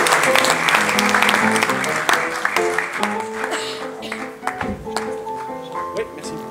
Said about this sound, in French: On applaudit Simon